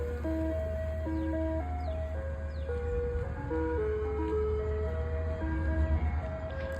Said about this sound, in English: First ice cream truck of the year.